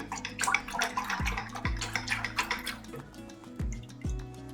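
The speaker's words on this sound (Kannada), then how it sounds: "ನಾನು ಇನ್ನೊಂದು ಸ್ವಲ್ಪ ನೀರು ಆ್ಯಡ್ ಮಾಡ್ಕೊಳ್ತಾ ಇದ್ದೀನಿ" Water is poured into spiced masala buttermilk in a kitchen, splashing and trickling into the container in short runs with small drips and clinks, near and fairly soft, with no speech.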